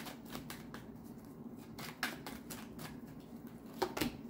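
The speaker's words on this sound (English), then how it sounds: "we'll pull some oracle cards as well" Oracle cards are shuffled by hand in quick, crisp riffling bursts and soft flicks, close and fairly quiet, repeating irregularly with no talking.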